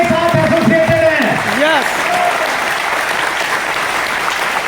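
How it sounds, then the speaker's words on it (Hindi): Loud, sustained applause from an audience at a business gathering, with a voice calling out over the clapping at the start before the crowd's clapping carries on steadily alone. "एक बार जोरदार तालियां बजा लीजिए कि आप हिंदुस्तान की बेस्ट कंपनी के साथ एसोसिएटेड हैं।"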